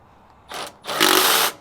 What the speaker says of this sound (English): we're drawing the assembly down with a 3/8 impact, which is nowhere near the torque these are going to be torqued to